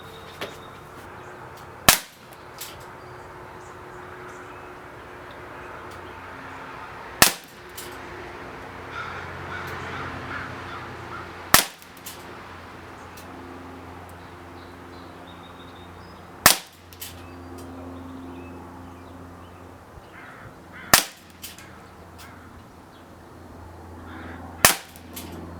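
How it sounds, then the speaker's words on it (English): Six sharp pellet shots from an Umarex Colt Government 1911 A1 nickel CO2 pistol, fired from a standing position at about 20 feet, crack out a few seconds apart against a steady background with no talk. "Let's find out how well this gun shoots."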